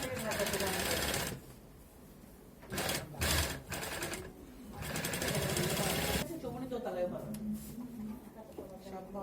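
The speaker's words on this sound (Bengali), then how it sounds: "এখন চেঙের পাশটাই সেলাই করা হচ্ছে।" A sewing machine stitches the sides of a handmade bag, loud bursts of rapid mechanical whirring that start and stop several times, close up, with a person talking in the pauses.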